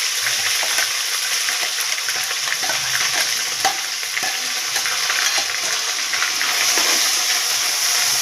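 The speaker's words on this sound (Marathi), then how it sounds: "आता मी जिरे टाकते थोडे, त्यानंतर 2 तेजपान टाकते" Cumin seeds and two bay leaves sizzle in hot oil for a drumstick curry, a steady, close, loud frying hiss with small crackles and spatters throughout, no voices.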